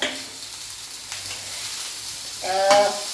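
Small white pomfret fish frying in a hot pan, with a steady soft sizzle and crackle that swells louder near the end as the fish is moved around.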